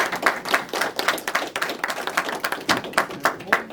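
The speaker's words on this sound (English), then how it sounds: "Can we give them an applause?" Audience clapping at a public conversation on substance use: a modest crowd's sharp, separate hand claps, close and fairly loud, with uneven rhythm throughout and a few voices underneath.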